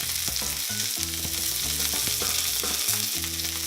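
Burger buns toast in a hot pan, giving a steady sizzling hiss that carries through, partly covered by background music.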